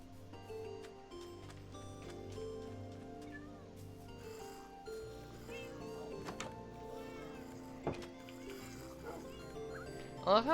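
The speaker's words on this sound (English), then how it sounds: "I love how one of those cats almost sounds like it's saying no." Cats meow in Minecraft, a few high wavering calls near the end over a steady droning music-like background with scattered game clicks and thuds.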